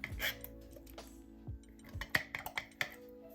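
A can of apple pie filling being opened in a kitchen, with a few quiet metallic clicks, clinks and scrapes of the lid and utensils, close and sparse, no talking.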